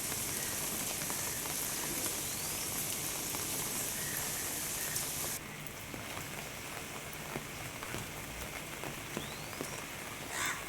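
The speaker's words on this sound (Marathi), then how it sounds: "कालपासून रायगड जिल्ह्यात जोरदार पाऊस कोसळतोय" Heavy monsoon rain pours in Raigad district, Maharashtra, a dense, steady hiss of drops on surfaces throughout with no voices.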